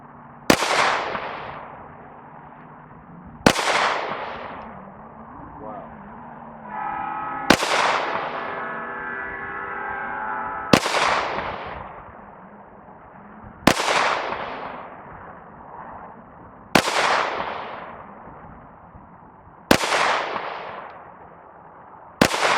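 A steady series of loud Glock 9mm pistol gunshots about every three seconds, each with a sharp crack and long ringing decay, and a metallic clang after one shot as a bullet hits a can.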